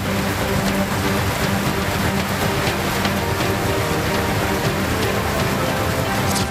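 Heavy rain pouring down in Ramanagara's Arkeshwara Colony, a dense, steady hiss of downpour on surfaces filling the whole scene without a break.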